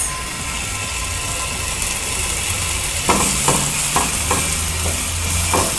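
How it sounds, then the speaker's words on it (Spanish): Garlic and olives fry in a little oil, giving a steady close sizzle with a few soft stirring clatters near the end. "de aceite, vamos a agregar el ajo y las aceitunas."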